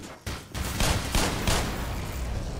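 Automated turret gunfire in the Black Mesa video game: sustained bursts of rapid shots lasting the whole stretch, loud and dense, with surges of heavier fire and no talk over it.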